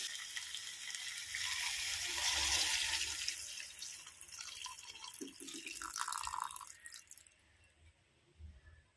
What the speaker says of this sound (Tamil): இப்போ கரைச்சி வச்சுருக்கிற புளி தண்ணி நம்ம சேர்த்துக்கலாம்